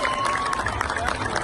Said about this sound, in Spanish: Un aplauso para nuestro gobernador